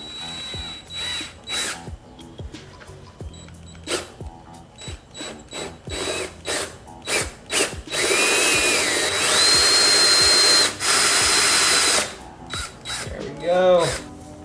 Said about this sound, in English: stick on the hole saw, center it on, cross my fingers and drill.